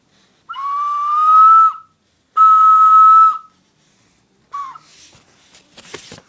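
A Songbird ocarina sounds two sustained, pure whistling notes, each about a second long, then a short third note followed by faint breathy noise, with no talking.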